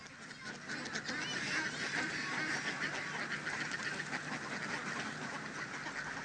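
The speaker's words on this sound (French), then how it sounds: "La population de canards qui peut s'ébattre en liberté sur l'étang" A large flock of domestic ducks on a fish-farming pond keeps up a dense, continuous chorus of quacking and honking, many birds calling over each other at a steady moderate level with no pauses.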